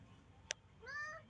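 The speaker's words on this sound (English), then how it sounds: "There's my kitty cat somewhere." A faint sharp click, then a single cat meow rising and falling, quiet against a low background hum.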